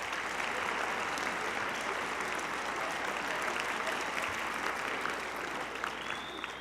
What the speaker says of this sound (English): I'd like to just stop right there and thank them with a round of applause